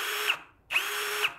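Premier HL 818 cordless brushless impact drill running at speed 1, two bursts of steady high-pitched motor whine with a short gap between them, close and loud, no talk.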